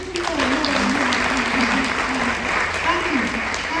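Steady applause from a concert audience fills the whole stretch, with a voice speaking over the clapping.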